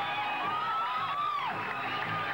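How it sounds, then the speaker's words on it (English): A boxing-fight crowd roars and whoops in a steady, loud wash, with high shouts rising and falling throughout. "this crowd is going bananas"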